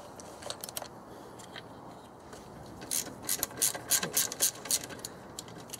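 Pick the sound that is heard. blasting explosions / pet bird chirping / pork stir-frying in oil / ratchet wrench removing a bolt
ratchet wrench removing a bolt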